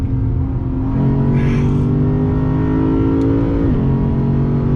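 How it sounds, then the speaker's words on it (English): A 2020 Lexus RC F Track Edition V8 engine revs loud and close, pitch climbing steadily before dropping sharply, with no voices. "The sound of that V8 is so insane."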